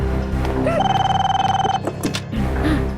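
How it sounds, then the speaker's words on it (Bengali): A telephone bell rings in an indoor scene of a crime drama. One short burst of ringing sits over a low background hum, near and clear. "ওদেরই ফোন হবে এটা।"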